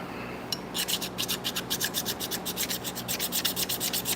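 A knife blade is profiled on a worn 120-grit belt grinder, giving a rapid, rhythmic series of close, bright scraping rasps at an even pace over a low steady hum, with no talking.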